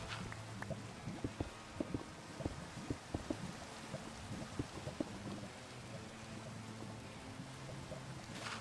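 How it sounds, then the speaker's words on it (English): Rain falling in the Minecraft video game, a steady low hiss of rainfall with scattered soft pattering drops, continuous and fairly faint, no voices. "Of course, it's got to rain too."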